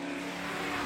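A cartoon racing car roars past at speed, a loud continuous engine rush lasting under a second that rises slightly at the end.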